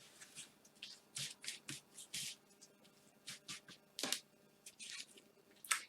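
Oracle cards of the symbols-of-life deck being shuffled by hand, a close, quiet series of brisk papery riffles and slaps in an uneven rhythm, with no talk over it.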